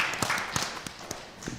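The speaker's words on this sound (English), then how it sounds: "I think that deserves a round of applause just on the top." Faint, sparse clapping from an audience at a judges' panel: a handful of separate hand claps spaced apart, quiet and distant, with no talking over them.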